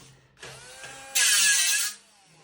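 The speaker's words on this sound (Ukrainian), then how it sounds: "Щоб перевірити, з якого матеріалу зроблений даний медсплав нам допоможе болгарка." An angle grinder spins up and bites into a piece of medical stainless steel alloy, a rising motor whine followed by a loud, harsh, hissing cut lasting under a second before it stops.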